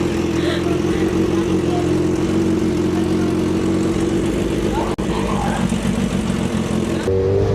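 A big bike motorcycle engine runs loud and close with a steady, even rumble throughout, broken by one brief click partway through.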